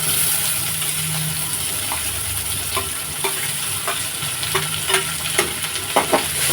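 Onion and tomato frying in a pan, a steady close sizzle with light stirring scrapes and a few sharp clicks toward the end, no voices.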